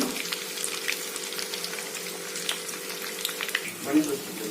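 A snack made from leftover cooked rice fries in hot oil with a soft, continuous close sizzle and light bubbling, and a brief louder splash or stir near the end.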